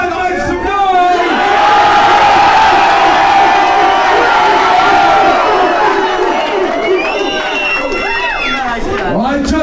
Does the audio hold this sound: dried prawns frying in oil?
no